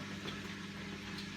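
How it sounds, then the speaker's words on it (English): A Bosch Classixx 6 Varioperfect washing machine's drain pump runs dry with a faint, steady low hum and rattle, close by and with no voices. "So that's the noise of the pump going dry."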